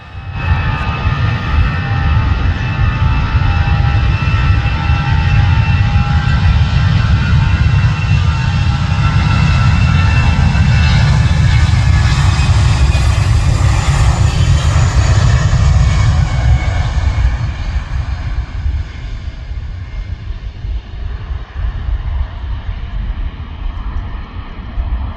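An Aer Lingus Airbus jet aircraft passing Manchester Airport, a loud, sustained engine roar with deep rumble and a rising then falling whine as it goes by.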